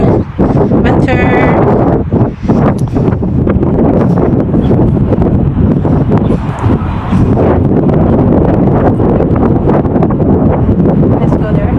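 Strong winter wind buffets the microphone in loud, continuous rumbling gusts that swamp the scene, with a voice faintly audible beneath the roar.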